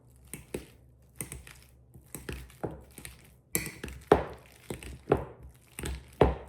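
Ripe peeled bananas mashed with a hand masher in a bowl for a banana pecan pound cake batter, giving a run of soft, squishy thumps and taps repeating steadily, close by and fairly quiet, with no talking.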